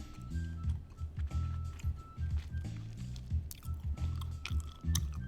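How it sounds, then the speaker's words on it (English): Juicy Fruit gum is chewed close up in steady, wet, squishy rhythmic bites that continue throughout. "Chewing"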